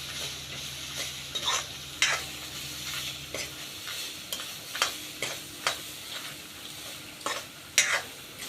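Garlic with turmeric powder and mixed masala powder frying in a pan, a soft sizzle under repeated rhythmic scrapes and taps of a spoon stirring against the pan.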